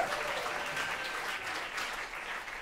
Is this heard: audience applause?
yes